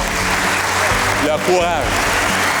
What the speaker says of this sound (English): ces gens-là méritent une main d'applaudissement pour